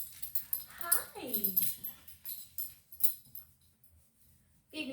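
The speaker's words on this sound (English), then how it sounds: "Big lovey-dovey dogs." Dogs, pit bulls, whimper and whine in short high-pitched cries close by, with a person speaking softly and affectionately around them.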